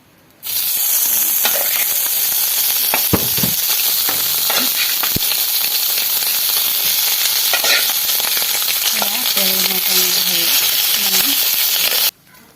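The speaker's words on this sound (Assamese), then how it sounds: "এয়া গাহৰি লৈছোঁ আমি কেৰাহীত দিম এতিয়া চাই থাকক" Pork pieces frying in a hot wok, a loud, dense and continuous sizzle with occasional stirring clatter, up close; a voice speaks faintly beneath it near the end.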